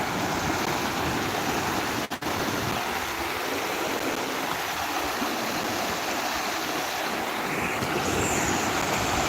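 Water running steadily, likely through a farm channel, a continuous broadband rushing that stays loud and even throughout with no talk.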